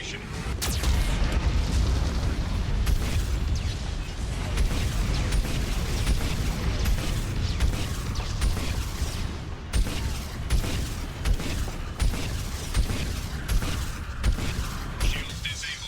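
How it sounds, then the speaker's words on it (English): A Geth cannon in Mass Effect 2 fires steadily, with heavy booming blasts and creaking, whirring mechanical noise filling the scene. A synthetic voice speaks occasionally underneath. "Warning, Geth cannon is locking on our location."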